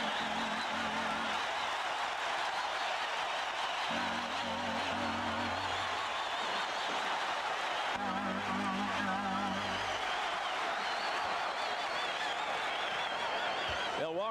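A crowd of fans at a 1983 NBA playoff game, 76ers at Bucks in Milwaukee, fills the arena with a continuous loud roar and cheering, while a low engine-like drone comes and goes beneath it.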